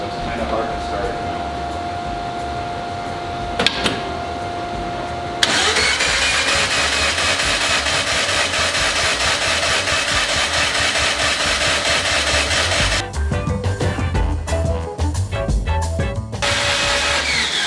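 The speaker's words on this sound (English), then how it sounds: "Changing starter tone is concerning right there." A Mazda single-rotor rotary engine with no compression cranks on its starter, a steady loud whirring drone that changes character partway through, with a burst of rapid irregular clattering near the end.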